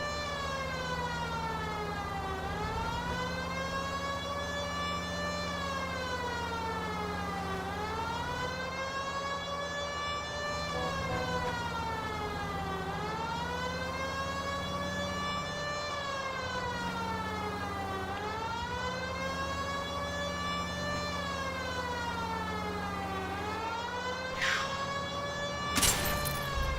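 A police car siren in the LA Noire video game wails in steady rising and falling sweeps for the whole stretch, loud and continuous over a low engine rumble, with a short sharp burst near the end.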